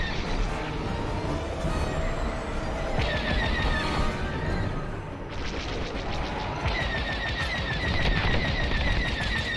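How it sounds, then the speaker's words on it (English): Rapid blaster fire from starfighters in a Star Wars: Squadrons space dogfight, loud sustained volleys of bursts with bright zapping tones cutting in and out over a constant roar of engines and impacts. "I'm taking heavy fire."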